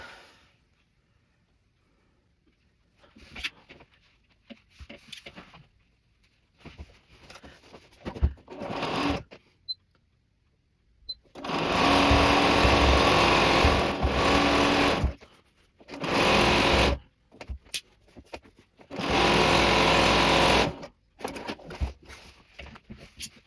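A domestic sewing machine stitches a quilted pillow in several loud, steady bursts of rapid mechanical whirring, separated by quiet gaps filled with soft handling and fabric rustles.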